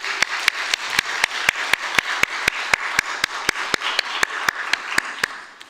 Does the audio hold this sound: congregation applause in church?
yes